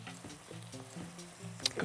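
Chopped onions frying in a pan while being browned for chakhokhbili, a soft steady sizzle with faint stirring clatter and a brief sharp clink near the end, low and close.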